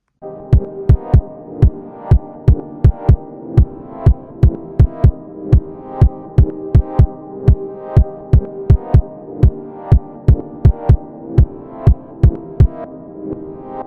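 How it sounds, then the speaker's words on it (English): Sewing machine zigzag stitching across dress lining pieces in steady, evenly spaced thumps with a low mechanical hum underneath, running continuously and close up, with no talking. "Then I'm going to go to my sewing machine and do a zigzag stitch"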